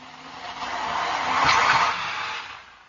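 A Niagara County sheriff's car peels out with a sustained, rising tire squeal and roaring engine that swells near the middle and then fades as it moves off, with no talking.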